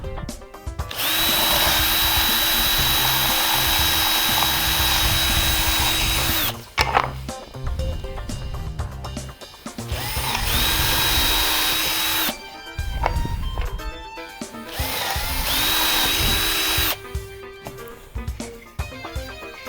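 A power drill whines through a piece of wood in three long bursts, drilling four holes, with short pauses and clattering handling noises between them.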